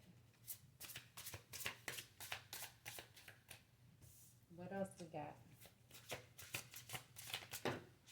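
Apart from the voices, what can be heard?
shuffling a deck of cards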